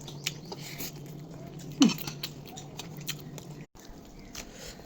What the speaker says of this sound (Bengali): খাওয়া শুরু করি।